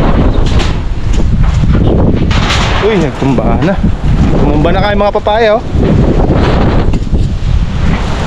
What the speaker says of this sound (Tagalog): Yan pa ng malakas na hangin.